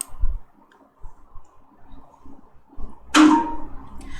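A computer mouse click on a Yes button in a software dialog, a short sharp click followed by a brief bright chime-like tone after a quiet lead-in with faint thumps.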